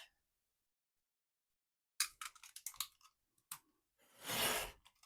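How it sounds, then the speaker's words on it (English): Scissors or a blade trimming a thin sliver off the edge of a handmade journal: after a silent pause, a cluster of close crisp snips and clicks, then a soft rustling drag of paper. "So I'm just going to cut a slither off."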